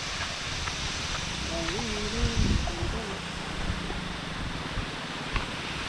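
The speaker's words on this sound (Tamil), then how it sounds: "Water fall." A hidden waterfall in Palakkad gives a steady, broad rushing roar throughout, with a person talking over it partway through.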